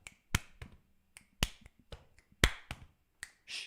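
Sharp, dry finger snaps played as body percussion, sounding singly and in irregular clusters with quiet gaps between them, close and crisp with no voices.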